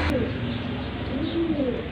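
A pigeon from Nueva Ecija in a breeding loft gives a soft, low coo that rises and falls, close to the listener against a steady room hum.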